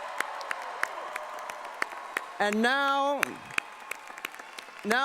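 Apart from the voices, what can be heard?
commencement audience applauding graduates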